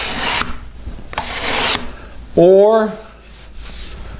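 A hand scraper rasps across a wood surface in two long, loud strokes, each a dry, gritty shave lasting about half a second, followed by a single spoken word.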